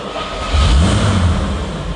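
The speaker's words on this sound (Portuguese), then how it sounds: "Para dar a partida no carro, você vira a chave e aperta o botão de start." A Jaguar XKE engine turns over and revs to life with a loud, close growl, swelling briefly before easing back to a rough idle.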